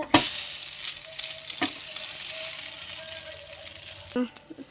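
Milk and egg bread frying in ghee on a dosa griddle gives a steady, close hiss of sizzling oil, with a few light clinks of a utensil at the start and near the end.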